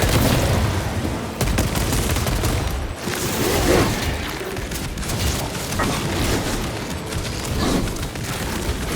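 Gunfire keeps crackling in the Warhammer 40,000 Space Marine 2 video game while a thrown frag grenade goes off with heavy booms. The shooting is loud and continuous, with several punchy blasts spread across the battle.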